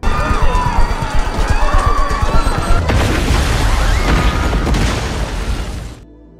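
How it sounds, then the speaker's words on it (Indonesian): A large bomb detonates in an action film scene, a loud rumbling boom with debris and crashing that sustains for several seconds before cutting off abruptly. "bom itu meledak hingga menghasilkan ledakan yang cukup besar"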